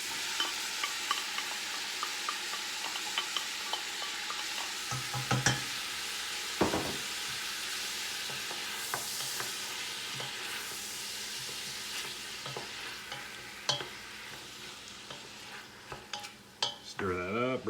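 Vegetables stir-fried in a hot pan for homemade beef chow mein give a steady, loud sizzle, broken now and then by sharp scrapes and clanks of a utensil against the pan, with no talking.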